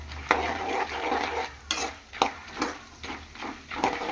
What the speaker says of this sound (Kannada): ಎಣ್ಣೆ ಬಿಸಿ ಇದೆ, ಹಾಗಾಗಿ ಬೇಗ ಫ್ರೈ ಆಗುತ್ತೆ.